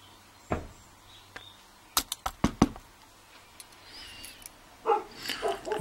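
Dogs indoors bark in a burst of several sharp, close barks, with a few softer yips after, set against a quiet room and some faint clicking.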